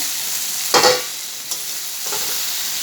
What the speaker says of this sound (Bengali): আমার রসুন পেঁয়াজ শুকনো মরিচটা ভাজা হয়ে গেছে